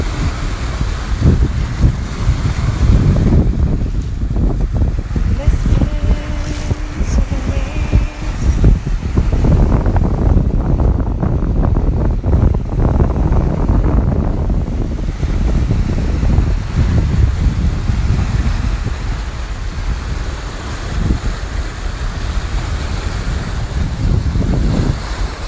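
Waves wash against the shore of Lake Sevan in Armenia while strong wind buffets the microphone, producing a loud, continuous roar of surf and gusting rumble with no talking.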